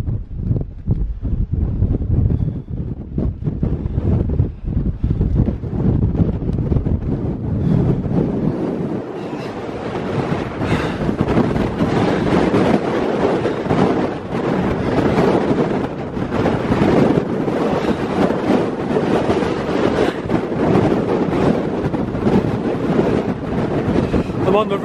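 Strong wind hammers the microphone on an exposed ridge in the Brecon Beacons, Wales: a loud, continuous buffeting roar with surging gusts and heavy low rumble, growing rougher after the first few seconds.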